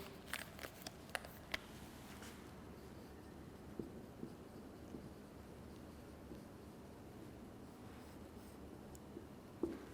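Marker or chalk writing on a board during a chemistry lecture, heard as faint scratchy strokes and small taps over a quiet room background.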